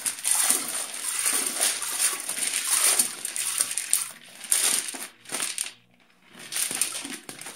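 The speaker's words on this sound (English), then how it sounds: "I'm going to get those into the pot so they can start cooking with the ham." Rinsed, still-wet dried split peas poured into a cooking pot to cook with ham, a bright rattling, splattering hiss in several bursts with a short pause, up close.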